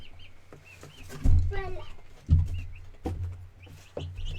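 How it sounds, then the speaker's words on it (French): Hens cluck and make short calls close by, with a couple of louder thumps and a person speaking briefly between the sounds. "Je vais vous montrer quel type de poule qu'on a"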